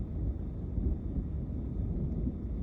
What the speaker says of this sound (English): A lot of thunder happening around me here